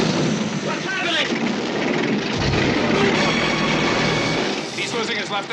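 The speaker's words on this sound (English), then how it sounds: "He's losing his left engine." A failing aircraft engine in flight roars loud and broadband for several seconds, unsteady, with voices shouting over it in a film scene.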